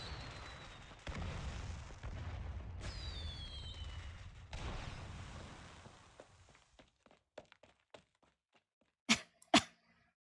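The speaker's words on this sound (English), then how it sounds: "it's just a big-ass firecracker, 8 feet long and 3 feet wide" A giant firecracker in Arknights goes off: a sustained rumbling roar with a whistling streak, trailing into scattered crackles, then two sharp loud bangs near the end, no talking.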